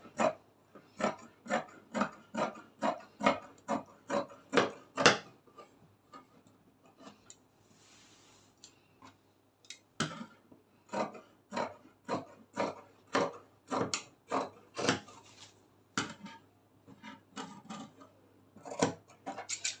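Scissors cutting through fabric for a bubu kaftan gown, a close, loud run of crisp rhythmic snips that pauses for a few seconds midway, then resumes as steadily as before.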